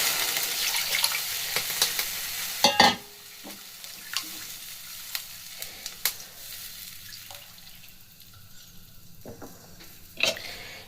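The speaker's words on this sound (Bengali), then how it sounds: "এখন আমি দিয়ে দেবো এর মধ্যে উষ্ণ গরম জল।" Warm water poured into a pan of sizzling spice paste for a jackfruit curry, with a burst of frying hiss that settles into quieter bubbling and a few scattered clinks; no speech.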